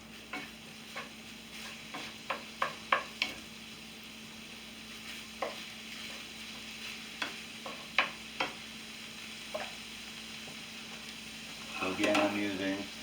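Steak for a homemade steak and cheese sizzles steadily in a pan while a utensil stirs and tosses it, sharp scraping clicks landing irregularly over the hiss, with a louder burst of sizzling near the end.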